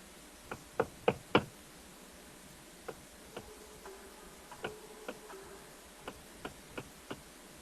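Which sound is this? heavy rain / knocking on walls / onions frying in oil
knocking on walls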